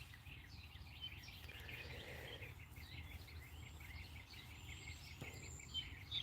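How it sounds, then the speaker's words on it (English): Faint outdoor birds chirp and twitter in the distance over a low steady background hum, soft scattered calls throughout with no talk. "you hear birds now, but that's the outside birds"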